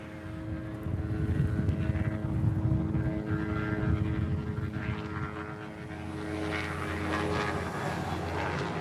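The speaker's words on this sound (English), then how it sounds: "another inter-island flight on a 321. That one's heading off to Lehue." An Airbus A321 on an inter-island departure from Honolulu airport, a sustained loud jet engine roar with a steady low rumble and whine that holds throughout at moderate distance, no speech.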